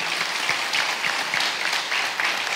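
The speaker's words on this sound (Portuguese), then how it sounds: "Você pode aplaudir ao Senhor" Church congregation applauding together during an evening worship service, a steady, dense wash of clapping at an even level throughout.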